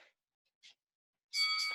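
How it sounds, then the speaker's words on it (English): A workout interval timer sounds: two faint short blips, then a bright sustained electronic bell tone begins near the end and holds. "Do not start until the bell goes off."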